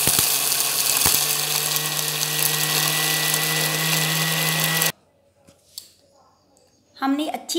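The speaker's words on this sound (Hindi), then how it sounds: "इसे सबसे पहले हम एक ग्राइंडर जार में डालकर इसका फाइन पाउडर बना लेंगे" Electric grinder jar pulverising roasted black chickpeas into fine powder: a loud, steady high-pitched motor whir with a brief stop near one second, cutting out abruptly after about five seconds, followed by quiet clinking and a voice speaking.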